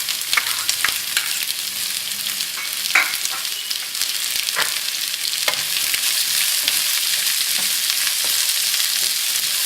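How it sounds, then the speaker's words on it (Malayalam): Sliced onion sautéing in hot oil with green chillies in a pan for potato bonda, a crackling sizzle broken by sharp stirring scrapes and clicks of a spoon, close and fairly loud. "ഇതിലേക്ക് നമുക്ക് മുറിച്ച് വെച്ചിരിക്കുന്ന സവാള ചേർക്കാം"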